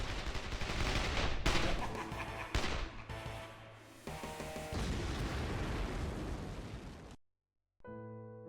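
Gunshots in the video game Escape from Paradise City, a dense barrage of loud shots and blasts over a droning, tonal background, ending in sudden silence before a brief tonal sound.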